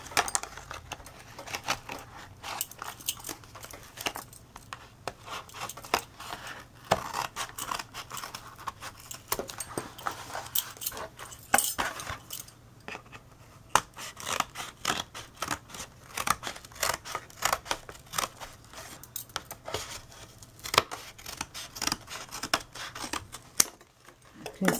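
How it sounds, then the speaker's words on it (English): Scissors snip through the cardboard sides of a tissue box in a long run of close, crisp cuts, with a person talking softly underneath. "and now you will cut all the sides"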